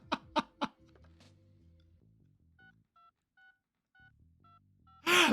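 Touch-tone telephone dialing in the Runaway adventure game: a run of about nine short, evenly spaced beeps, clear and alone, following a few bursts of laughter-like sounds at the start and ending in a loud noisy burst.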